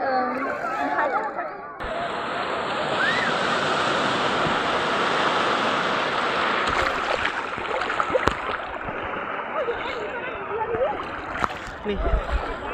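Sea waves at the Digha beach during low tide roll in a steady, nearby rushing wash, while people talk and splash over the surf.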